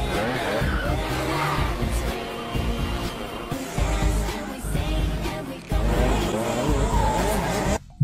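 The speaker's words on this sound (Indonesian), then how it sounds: "Mereka berdua pun akhirnya balapan." Cars racing in a film scene, engines roaring with squealing tires and skids, loud and close amid a busy layered soundtrack that cuts off abruptly at the end.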